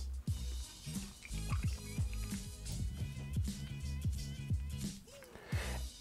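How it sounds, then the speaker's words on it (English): Liquid from a clarified Negroni drips through a paper filter into a vessel, rapid close drips in a quick irregular rhythm, each a small bright plink, with faint trickling between them. "What you will begin to see is that it will start to drip."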